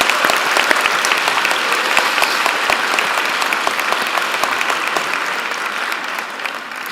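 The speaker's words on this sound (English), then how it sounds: "give yourself a round of applause" Graduates at a convocation ceremony break into a sustained round of applause, dense clapping from a large group holding steady for several seconds and easing slightly toward the end.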